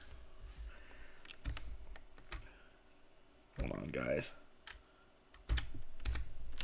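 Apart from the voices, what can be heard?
typing on a computer keyboard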